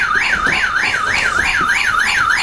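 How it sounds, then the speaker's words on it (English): A small handheld ghost-detecting gadget sounds a loud, steady electronic alarm, a rising-and-falling siren tone that sweeps about twice per second without pause. "That's your little ghost alarm."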